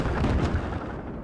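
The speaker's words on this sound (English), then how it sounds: "Looks like the barrage is coming in. All the smoke barrage is coming in." Smoke artillery barrage landing in the military shooter Squad: a dense, continuous rumble of muffled impacts and bursts, loud and close, with a heavier cluster early before it eases slightly.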